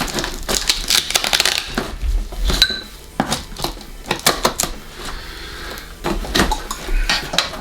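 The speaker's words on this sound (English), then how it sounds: "So let's open the box and see just exactly what we ended up with." A shipping box holding bags of gold pay dirt is opened and unpacked, with dense rustling, scraping and clattering of cardboard and contents filling the whole stretch at close range, and no talking.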